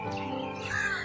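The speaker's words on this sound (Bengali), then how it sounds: "ভীষণ কাক ডাকছে এই পাশগুলোতে" A crow gives a short, raspy caw close by over a steady background drone.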